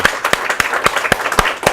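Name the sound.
audience applause for first responders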